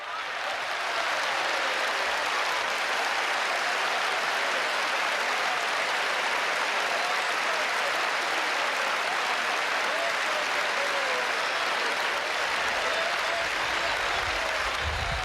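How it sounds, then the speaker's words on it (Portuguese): A large congregation at a 1987 Rio de Janeiro revival meeting applauds in praise, a loud, sustained wall of clapping from a big crowd that continues without a break. "Give the Lord a hand of praise."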